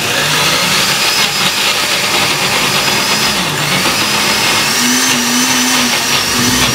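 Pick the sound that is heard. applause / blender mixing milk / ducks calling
blender mixing milk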